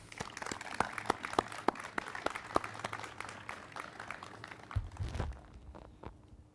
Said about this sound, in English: Let's give it another round of applause.